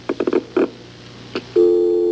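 A telephone dial tone comes on as a steady, loud, continuous hum after a few short clicks and button taps.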